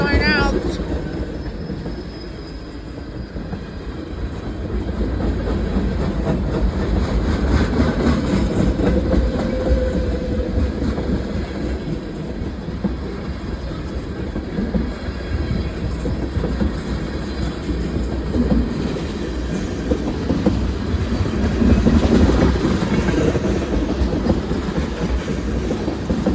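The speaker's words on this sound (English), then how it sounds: "Csx L191-14 westbound mixed freight train" A long CSX westbound mixed freight train rumbles steadily past nearby, wheels clattering over the rails with a faint squeal, loud and continuous throughout.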